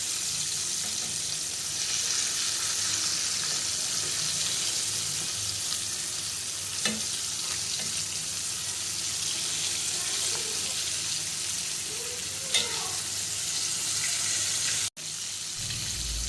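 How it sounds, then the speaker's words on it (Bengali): Coated chicken deep-fries in a pan of oil, giving a dense, steady sizzle that continues the whole time with a few faint clinks and stirring sounds. "তারপরে আমরা ডুবো তেলে চিকেনগুলোকে ভেজে নিব।"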